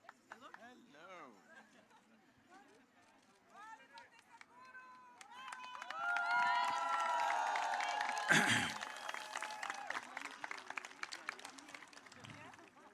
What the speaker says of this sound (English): You're clapping your hands, what is this?